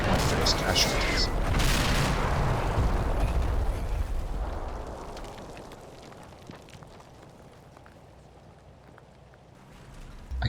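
Artillery shells burst in a Combat Mission World War II battle, a loud booming barrage at the start that fades into lingering rumble and debris, then a fresh hit strikes at the very end.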